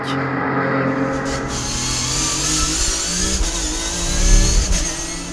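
Porsche race cars battle on the circuit at Magny-Cours, their engines a loud continuous roar that swells as the cars rev past.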